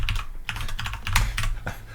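Fast typing on a computer keyboard while coding C++, a dense, close run of key clacks with a few louder strikes and no talk over it.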